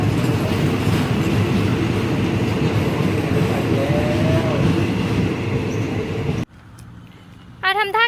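A long train rumbles past nearby with loud steady wheel noise and a faint squeal, then cuts to quieter surroundings where a voice briefly speaks in Thai.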